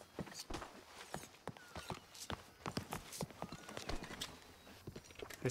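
In a roleplay video game, horses clip-clop at a quiet, uneven pace, with scattered hoof knocks and faint creaks against a low background.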